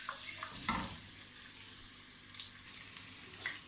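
Ginger garlic paste fries in hot oil for a mince and capsicum curry, giving a continuous close sizzle with brief stirring scrapes, moderately quiet and with no talking.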